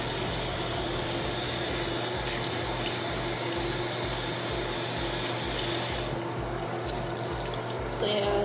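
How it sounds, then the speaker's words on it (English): A tap runs steadily into a sink for face washing, a constant close rush of water with a low hum underneath, and a brief clatter near the end. "But yeah, I'm gonna wash my face."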